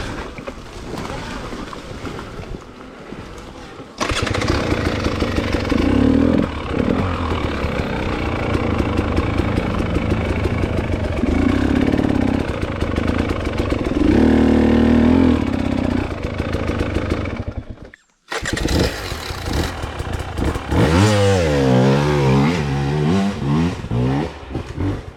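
A KTM/Husky 300 dirt bike engine revs loud and steady with heavy wind buffeting as the bike rides downhill, then briefly cuts out before the engine note returns with shifting, wavering pitch.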